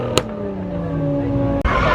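A tow truck engine at a street car takeover drones steadily at close range, with a loud rising rev and a couple of sharp pops.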